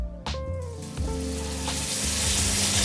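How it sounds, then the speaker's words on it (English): Salmon sizzling in a hot pan as it is flipped, a clunk of the turn followed by a loud, steadily building fry and sizzle. "Now with the salmon, I'm just going to carefully flip it."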